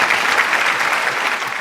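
A quiz show audience gives a short, dense burst of applause for a contestant's correct answer, loud and continuous throughout.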